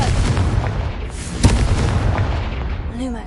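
The Confringo blasting spell goes off in the Hogwarts video game as a dense, rumbling explosion with a sharp crack in the middle, fading into a low roar while a brief magical whoosh rises near the end.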